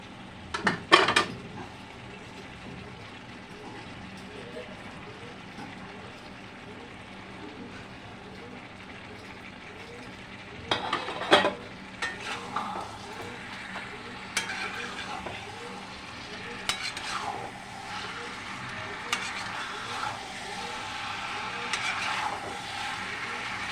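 Fried potatoes are stirred in a pan while cooking chicken kosha, with intermittent metallic scrapes and clinks of a utensil against the pan over a low steady sizzle, busier in the second half.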